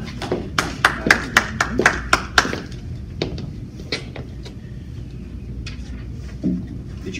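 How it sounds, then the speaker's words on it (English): A small town hall audience gives a brief round of applause: a burst of about eight sharp, distinct handclaps over two and a half seconds, then the room falls quiet apart from faint background noise. "I think he deserves a round of applause"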